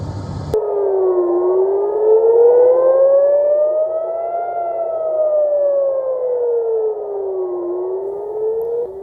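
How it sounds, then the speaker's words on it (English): Civil defense missile warning sirens wail across northern and central Israel, a loud, steady rising and falling tone that starts abruptly and sweeps slowly up and down for the whole stretch, with no voices. "sirens warning of incoming missiles sounded across much of the country's north and center"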